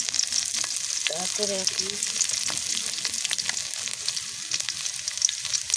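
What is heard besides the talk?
bay leaves and garlic sizzling in hot oil, mango pickle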